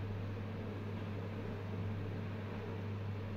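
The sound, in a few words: chili peppers frying in hot oil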